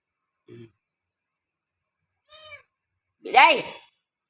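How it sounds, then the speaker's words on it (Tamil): A cat meows three times with pauses between, short and faint at first, then a louder, drawn-out final cry, each call alone against silence. "பூனை கத்திக்கிட்டே இருக்குது."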